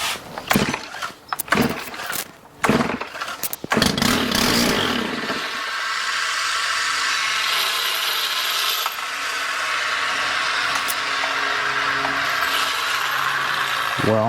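A Stihl combi unit engine catches after priming on choke, following a burst of rattling pull-start clatter, then runs steadily at a loud, even buzzing idle up close for several seconds.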